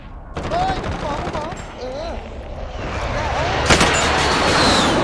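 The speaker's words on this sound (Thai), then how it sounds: "เฮ้ยเฮ้ยกูโดนยิงจากข้างล่างไอ้เคลียร์" Gunfire in Call of Duty (Plunder / Blood Money mode), rapid automatic bursts and sharp shots mixed with game effects and whistling tones, fairly loud and close throughout.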